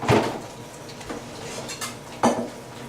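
Dishes are washed at a sink after dinner. Dishes and cutlery clink and clatter a few times, quiet and fairly close, with soft water and handling noise in between and no voices.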